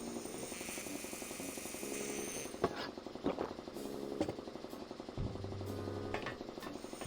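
A mechanical drill in the Grim Fandango Remastered video game, a steady loud grinding drone with a rattling texture that runs throughout, broken by a few sharp clanks and a lower rumbling shift near the end.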